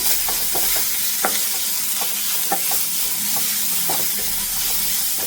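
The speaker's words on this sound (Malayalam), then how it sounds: "നല്ലോണം മിക്സ് ചെയ്യാം" A spatula stirs a chicken roll filling mixture with Kashmiri chili powder in a frying pan, making repeated scraping strokes over a steady close sizzle.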